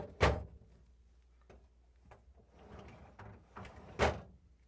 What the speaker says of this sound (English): lift up on the door and slide this in on the rails, push it in.